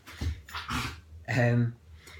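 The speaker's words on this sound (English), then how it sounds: "That's my dog." A pet dog whimpers and whines in short, close, high-pitched bursts, a few nasal cries with breathy pauses between them, fairly quiet indoors.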